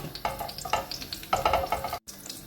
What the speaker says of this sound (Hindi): इसको हम अच्छी तरह मेल्ट कर लेंगे